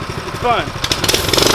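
Small gasoline engine of a Coleman CT200U mini bike running nearby, a steady rough putter that picks up as the bike rides off, with a person talking over it.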